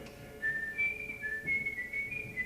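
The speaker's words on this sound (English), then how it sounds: "that's how I taught her this one, just whistling it" Someone whistles a Greek tune: a clear, fairly steady melodic line of held and gliding notes that rises and falls, alone over a faint background hum.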